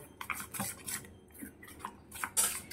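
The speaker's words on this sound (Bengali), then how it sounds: "দই আর সুজিটাকে খুব ভালো করে মিশিয়ে নেব।" A spoon scrapes and taps around a bowl while yogurt and semolina are stirred together, with rapid uneven strokes, close and clear.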